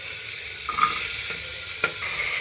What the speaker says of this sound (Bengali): তো সমস্ত সবজিগুলো প্রেশার কুকারে দিয়ে দিচ্ছি